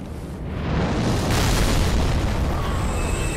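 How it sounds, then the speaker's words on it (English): Ballista firing in a video game, a loud booming blast that swells and holds as a sustained rumbling roar, close and dominant, with no talking. "ballista fire off"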